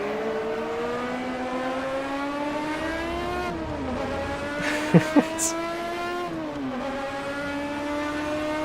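Group 5 race car engine in the Automobilista racing game revving high through the gears toward the redline, a loud continuous whining tone that climbs, drops briefly at each shift and climbs again.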